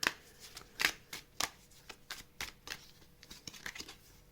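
Tarot cards being shuffled by hand, a series of quick, crisp riffles and snaps spaced irregularly, close up and fairly quiet, with no talking.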